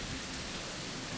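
Steady rain falling outside a resort room in the Maldives, a dense even hiss with no voices, heard close and continuous through the short stretch.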